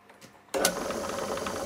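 Myford ML7 lathe at its lowest belt speed of 379 RPM taking a heavy 9 mm cut with a block tool post insert: near silence, then the machine abruptly starts into a loud, steady whirring and rattling drone.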